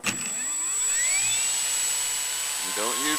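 A Radian RC glider's electric motor runs steadily at half throttle after a hand launch, a sustained high whine that holds through the clip, with a brief voice near the end.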